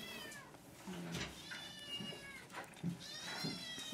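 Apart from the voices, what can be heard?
sick kittens meowing at a shelter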